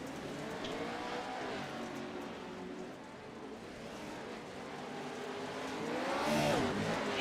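Club race cars roar as they accelerate side by side out of turn 4 toward turn 1, a sustained loud engine drone that swells near the end as a car passes close.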